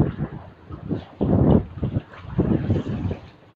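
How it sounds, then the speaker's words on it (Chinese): Strong wind buffets a small fishing boat at sea in rough, uneven gusts that swell and fade across the clip. Muffled rumbling pushes against the microphone, with no speech. "今天风很大"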